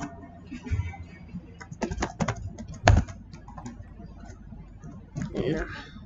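Computer keyboard typing during a Roblox military simulator game, with bursts of clattering keystrokes and one sharp louder hit mixed in among speech.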